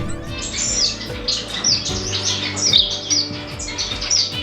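Many birds chirp and squawk busily in an indoor bird room near a nest of chicks, a dense close chorus of overlapping tweets over a low mechanical hum.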